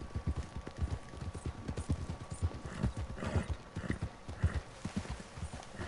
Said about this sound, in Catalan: Tinc el cavall i tinc...